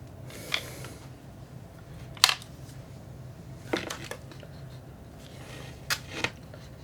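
A camera shutter fires in single shot mode, giving a few crisp, separate clicks spaced a second or more apart, fairly close and quiet over a low room hum.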